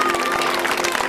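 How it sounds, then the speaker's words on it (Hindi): Brief, steady crowd applause for a three-person music team at a Shrimad Bhagavat Katha gathering in a village, heard with a sustained tonal hum underneath. "तीनों के लिए जोरदार ताली बजा दो।"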